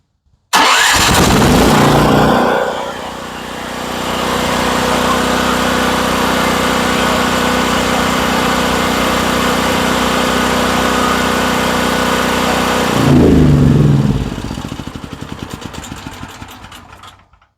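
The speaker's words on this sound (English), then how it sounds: "We're going to disconnect that and see if the engine runs." A Generac GP8000E portable generator, with its oil pressure switch disconnected, cranks and catches, then runs loud and close at a steady roar for about ten seconds. A brief surge follows before it winds down and stops.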